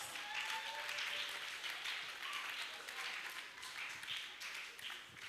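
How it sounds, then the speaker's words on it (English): An audience at a hackathon awards ceremony applauds in a sustained, fairly distant wash of clapping, with a voice talking over it. "Please, can we put our hands together?"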